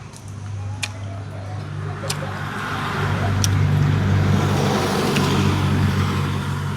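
A car being driven, heard from inside the cabin: a steady low engine drone and road rumble that builds slightly over the stretch, with a few faint clicks and no clear talk.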